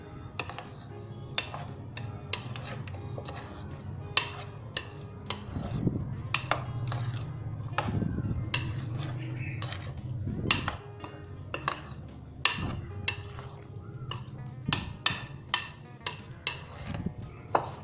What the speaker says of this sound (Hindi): दोस्तों बहुत ही हल्के हाथ के साथ हमने इसे मिक्स करना है।